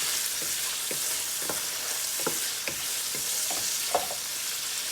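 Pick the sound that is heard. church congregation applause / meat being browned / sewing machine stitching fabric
meat being browned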